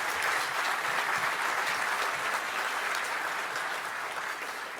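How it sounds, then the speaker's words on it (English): Audience at the 2023 LEO Awards applauding the event sponsors, a dense, steady wash of many hands clapping at full strength throughout, fading only slightly toward the end with no voices on top. "Ladies and gentlemen, please give these sponsors a wonderful round of applause."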